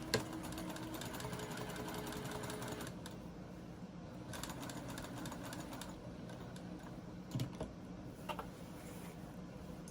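Sewing machine stitching down an appliqué flower on a patchwork garden quilt, a steady fast mechanical whir with brief pauses and small clicks, close and quiet.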